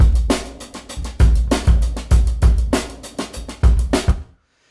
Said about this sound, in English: I have a drum channel with EQ before a reverb